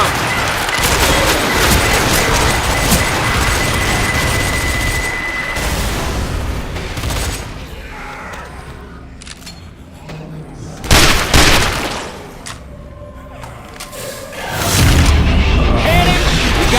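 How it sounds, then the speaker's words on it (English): In Left 4 Dead 2, a pipe bomb goes off amid chaotic gunfire, heavy booming blasts bursting out loud over a dense wash of combat noise. "Throwing a pipe bomb."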